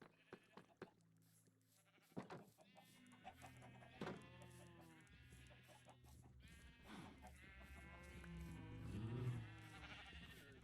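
Sheep bleat in the Minecraft video game, several short calls scattered through the clip amid game sounds and background music, moderately loud.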